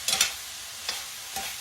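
Onions are stirred in a skillet to wilt them, giving a soft background sizzle broken by a few quick spatula scrapes, two close together at the start and two more later. The whole is quiet and brief.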